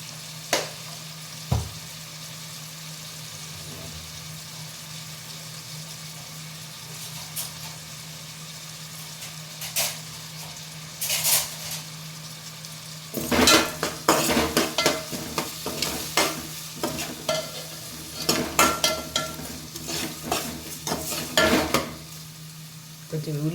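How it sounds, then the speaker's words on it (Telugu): Chopped onion frying in a pan for a dry fish curry, a steady sizzle running throughout with scraping stir strokes and clinks that grow busier and louder in the second half. "వేగనిద్దామండి ఉల్లిపాయ సగం వేసిందండి"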